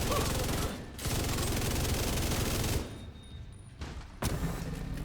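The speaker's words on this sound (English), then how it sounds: "I kind of really like it with the MG5 here" MG5 machine gun in a video game firing loud, sustained rapid bursts of close gunfire, breaking off briefly about midway and then resuming with a short final burst.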